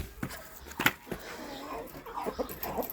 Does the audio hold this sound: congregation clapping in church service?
no